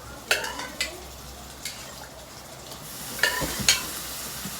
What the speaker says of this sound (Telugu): మటన్ అయితే వేసేస్తాను.